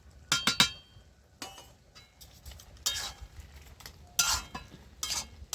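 A spoon stirs a pot of Malabar spinach and shrimp curry in a few short bursts, with metallic scrapes and clinks against the pot separated by quiet pauses, close but soft.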